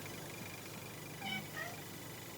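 A cat indoors gives two brief, faint meows in quick succession, barely rising above a steady background hum.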